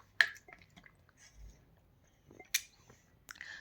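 Someone drinks water in a quiet room: a few soft gulps and wet mouth sounds, spaced apart, with small clicks between them.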